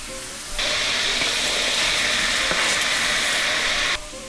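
Potatoes sizzle and hiss loudly in a hot pan for pork in salsa verde, a steady broadband frying roar that starts abruptly and holds close and constant for several seconds, with faint stirring underneath.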